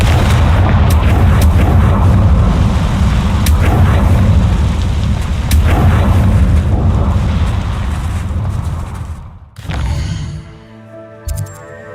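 A Confringo blasting spell explodes in a video game, producing a loud, sustained booming roar for about nine seconds that cuts off abruptly, followed by a few fainter bursts.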